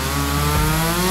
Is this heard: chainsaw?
yes